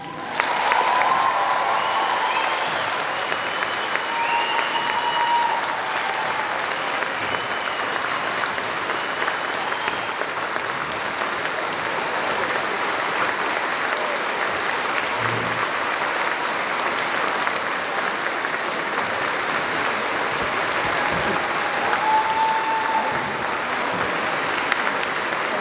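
Sustained, steady applause fills a high school graduation ceremony hall for graduates, a dense crowd clapping continuously at moderate loudness with faint voices and whoops scattered through.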